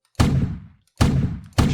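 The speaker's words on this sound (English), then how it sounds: "now when we run the game, we should hear our shoot sound" Gunshot sound effect from a Unity game, fired three times: each shot is a loud, punchy burst with a short fading tail, the second and third coming close together, with no talking.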